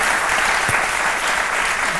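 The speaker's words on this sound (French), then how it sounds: "On l'applaudit très fort." Studio audience on a French midday TV talk show applauds loudly, a steady dense wash of clapping sustained evenly throughout, close and full with no voices over it.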